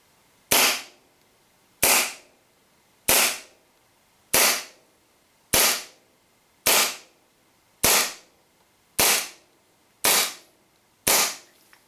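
Ten evenly spaced, sharp pops from a WE 1911 4.3 gas blowback airsoft pistol shooting 0.2 gram BBs on green gas through a chronograph, each crack loud and close with a short metallic tail, about one shot per second.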